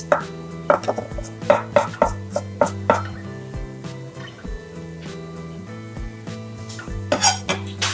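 A knife chops onions or shallots on a cutting board in quick, close, uneven taps with short pauses, while background music plays throughout.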